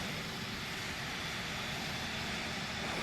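Steady, loud roar of a CRJ regional jet's engines in Microsoft Flight Simulator, a continuous broadband rush with low rumble held evenly throughout, no voices over it.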